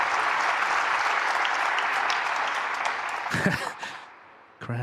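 An arena audience in Hong Kong applauds a snooker century break, a dense, steady round of clapping that swells briefly and then fades away near the end.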